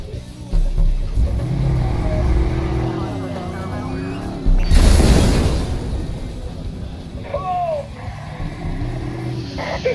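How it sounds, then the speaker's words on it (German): A street explodes in the video game Watch Dogs, a loud broadband burst midway through, set among car engine and driving noise with talk throughout. "Die Straße ist explodiert"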